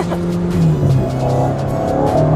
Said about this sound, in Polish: Fajne ma takie, wiesz, strzały z wydechu wtedy.